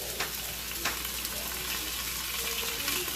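Chicken liver and onions with garlic sizzling steadily in a pan, a constant dense crackle with a few sharper spatters and utensil clicks, close by at a low level.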